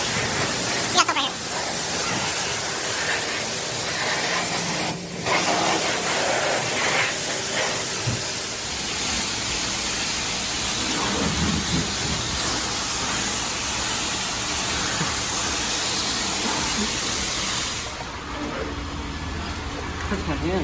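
A self-service car wash wand sprays soap in a broad, steady hiss that runs nearly the whole time, close and loud, with people talking over it.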